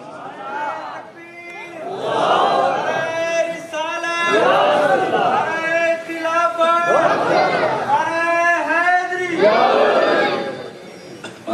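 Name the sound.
crowd loudly chanting religious slogans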